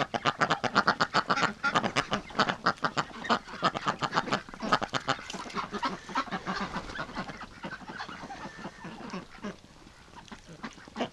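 Pet ducks around a bathtub pond give a dense run of rapid quacks and honking calls, fairly loud and close at first and tapering slightly toward the end, with no talk.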